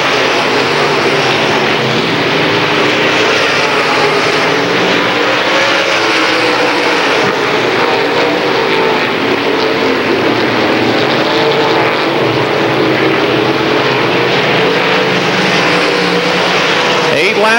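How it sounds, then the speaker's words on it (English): Late model stock cars race at close quarters on an oval track at a 1993 heat race, a continuous loud engine roar filling the whole stretch while a commentator talks over it. "Faree closing in on Johnny Johnson in the battle for third as they enter turn 3 that time"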